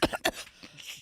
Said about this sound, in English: You hear that coughing?